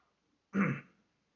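One short throat-clearing cough, close and sharp, lasts about half a second against near silence.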